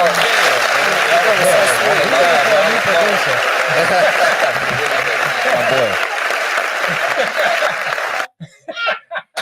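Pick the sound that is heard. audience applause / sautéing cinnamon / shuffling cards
audience applause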